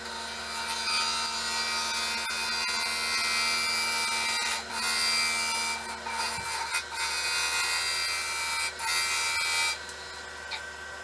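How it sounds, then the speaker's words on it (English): Wood lathe roughing out a red resin and wood vase with a bowl gouge leaned on hard, giving a steady loud scraping, rasping cut that runs throughout with a low motor hum underneath. "I'm really leaning on that bowl gouge, so for right now, I'm just roughing this out"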